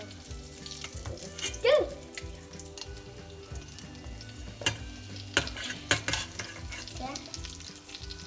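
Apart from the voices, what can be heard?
chicken Vienna sushi roll frying in pan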